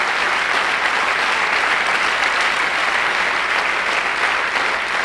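Listeners at a talk by teacher Devendra Sharma break into sustained applause, many hands clapping evenly and fairly loud for several seconds, with no speech on top.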